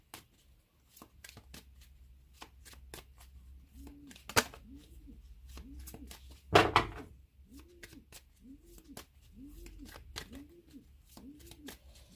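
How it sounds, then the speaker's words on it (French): Pigeons coo softly about ten times in a steady, evenly spaced series, mixed with sharp clicks and rustles close by in an otherwise quiet room. "il y a des pigeons"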